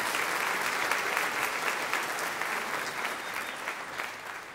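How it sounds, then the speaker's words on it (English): A concert audience gives a sustained, even round of applause for the graduating class of 2023, dense clapping that holds steady throughout at moderate loudness. "How about a rousing round of applause for all of our graduates,"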